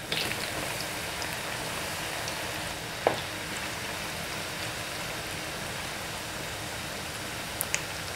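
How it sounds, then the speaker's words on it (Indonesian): Tempeh frying in a pan of hot oil gives a steady, dense sizzle that holds at an even level throughout, with a few faint clicks and pops now and then. "Sekarang saya lanjutkan untuk goreng tempenya."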